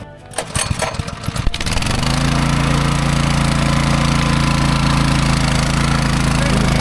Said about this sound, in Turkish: Şimdi marşa basıyoruz.